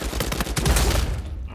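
Rapid gunfire in an Uncharted 4 multiplayer match, a dense burst of close, loud shots fired in quick succession, tapering off near the end with no talking over it.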